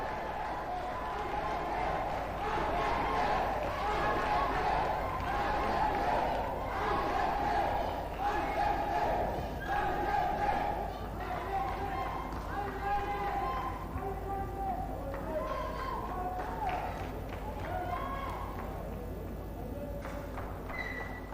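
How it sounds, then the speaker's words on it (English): At a Muay Thai title event, a crowd cheers and shouts for the champion, a busy roar of voices with scattered clapping and thuds that stays loud and fairly steady, easing slightly toward the end. "a round of applause for Husni Ahmed"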